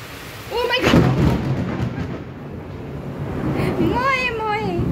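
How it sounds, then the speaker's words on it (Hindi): Loud thunder rumbles through a heavy monsoon rainstorm with lightning, deep booming rolls swelling and easing over steady rain noise while voices are heard in the middle of it. "बहुत तेज बादल गरज रहे थे"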